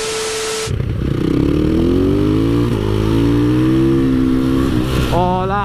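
A KTM 450SM supermoto with an aluminium frame revs hard and close. The loud single-cylinder engine note climbs and holds through several throttle blips before a sharp rising rev at the end.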